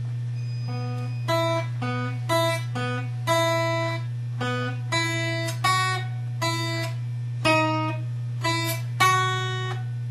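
A plucked guitar melody played at tempo, single notes in a lively rhythm over a constant low hum.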